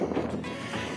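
Strong wind buffets the microphone at high altitude in the Lesotho mountains, a steady low roaring rush that fills the whole second with no voices.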